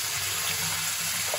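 Romaine lettuce being washed under a running kitchen tap in a sink, a loud, steady gush of water throughout, close and uninterrupted.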